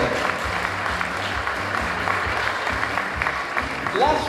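An audience at a county Teacher of the Year celebration applauds teacher Mr. Hogue with a warm, steady round of clapping, while voices murmur faintly underneath.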